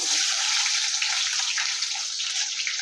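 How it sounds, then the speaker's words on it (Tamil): Mustard seeds, fenugreek and cumin splutter in hot oil, a continuous dense crackling hiss heard up close with no talking. "இப்போ அதே எண்ணெயில் கடுகு வெந்தயம் ஜீரகம் எல்லாம் சேர்த்துட்டேன் சேர்த்துட்டு இப்போ எல்லாம் பொறிஞ்சு வருது"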